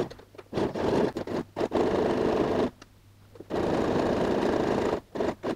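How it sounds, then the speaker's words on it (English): Domestic sewing machine running a top stitch along fabric with a zipper attachment, loud bursts of rapid stitching broken by short pauses and one longer gap midway. "So let's go and sew a top stitch."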